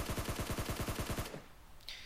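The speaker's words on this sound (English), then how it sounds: "Be able to prone shoot them really quick like that." Rapid automatic gunfire from prone shooting in PUBG Mobile, a fast regular burst of about a dozen loud shots lasting over a second, then a quieter tail with a brief high ping.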